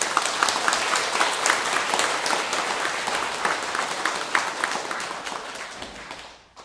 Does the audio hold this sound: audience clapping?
yes